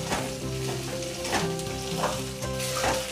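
Chilli mushroom frying in a kadhai, a steady close sizzle with bursts of stirring crackle throughout, no talking over it.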